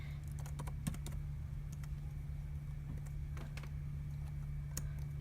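Typing on a computer keyboard, a run of quick light key clicks in uneven bursts, near and fairly soft over a steady electrical hum.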